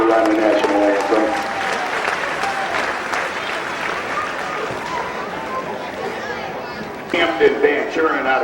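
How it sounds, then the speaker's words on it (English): Big round of applause from a county fair derby grandstand crowd for the national anthem singer, sustained clapping mixed with crowd chatter and voices, with a louder burst near the end. "How about a big round of applause for Allison Corder on the national anthem?"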